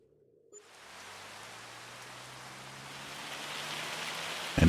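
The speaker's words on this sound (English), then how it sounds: "And it's raining." Rain in Farming Simulator 25 begins after a brief quiet moment and builds into a steady, broad hiss of falling drops that grows slightly louder toward the end.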